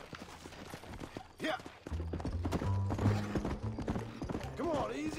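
Horse hooves clip-clop steadily while riding in the video game Red Dead Redemption, close and rhythmic, running under a voice with occasional game sounds.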